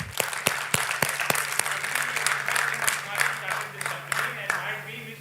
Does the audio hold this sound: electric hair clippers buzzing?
no